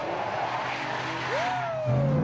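A car driven recklessly gives a loud engine roar, then a rising tire screech that slides downward in pitch, with a further low squeal near the end.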